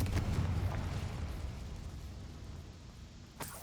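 A Confringo spell explosion in Hogwarts Legacy, a heavy low rumbling blast that fills the opening and slowly fades over a few seconds, ending with a small sharp pop.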